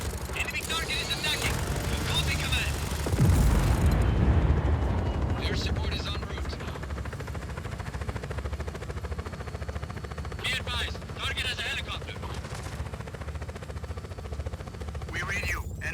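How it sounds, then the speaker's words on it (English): Enemy helicopter in Just Cause 4, a steady rotor drone throughout with a loud rumbling burst early on and scattered gunfire and explosions, while voices talk over it. "Enemies in a helicopter."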